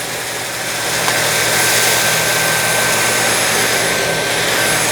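A Dyson V8 cordless vacuum cleaner runs on high power while cleaning, giving a loud, steady whining roar with a high-pitched tone that holds throughout.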